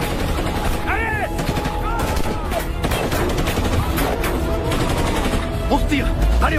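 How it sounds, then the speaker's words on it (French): Machine gun fire rattles through a tense action adventure film scene, rapid dense bursts in a loud, busy mix with shouting voices underneath. "Ils nous tirent dessus à la mitrailleuse!"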